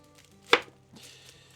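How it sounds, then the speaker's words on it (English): A single sharp knife chop into an onion on a cutting board set over a sink, one crisp close strike followed by quiet rustle. "cut up an onion"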